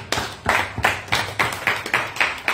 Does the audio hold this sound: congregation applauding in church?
yes